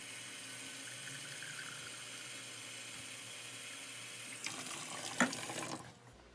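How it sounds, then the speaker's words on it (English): A vinegar-and-water solution is poured into a cup of water with a soft, steady trickle, ending in a brief louder splash and a small clatter near the end. "I'm going to add that to a cup of water."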